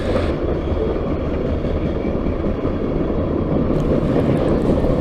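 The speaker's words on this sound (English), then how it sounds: "we happened to see this train" A CSX freight train rolls past at night, a loud, steady, broadband roar and rumble that holds for the whole stretch with no voices.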